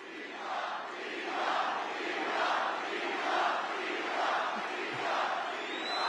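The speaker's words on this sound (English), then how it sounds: "The crowd is chanting your name." A large crowd chanting a name, a rhythmic swelling roar of many voices repeating a two-beat chant roughly once a second, steady and somewhat distant.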